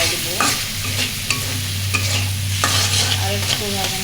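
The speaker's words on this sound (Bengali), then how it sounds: "এখন আলুগুলো ফেলাই দেবো।" Potatoes are stirred into spice paste frying in a pan, giving repeated scraping stir strokes over a continuous sizzle, close and fairly loud, with no speech.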